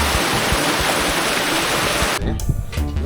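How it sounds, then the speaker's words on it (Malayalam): A small waterfall in Chikmagalur pours in a steady, close, full rush of falling water, and the sound drops off abruptly near the end. "ഈ ചെറിയ വെള്ളച്ചാട്ടം എന്ന് പറഞ്ഞിട്ട് കാര്യമില്ല, സൂപ്പറാണ്, അടിപൊളി"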